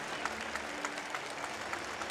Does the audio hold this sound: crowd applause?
yes